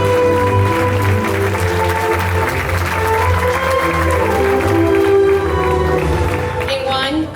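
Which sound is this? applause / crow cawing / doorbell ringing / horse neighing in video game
applause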